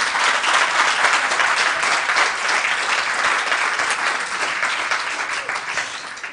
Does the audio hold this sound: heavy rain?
no